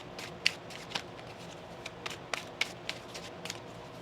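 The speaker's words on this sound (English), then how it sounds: "One more shuffle." Light, crisp riffling and flicking of tarot cards, a few sharp snaps standing out against a soft continuous rustle, close and fairly quiet.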